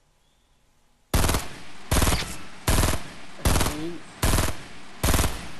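Gunfire in the Fortnite video game rings out as six loud, evenly spaced bursts after a quiet opening second, each a sharp rattling volley, with a brief spoken word from a player.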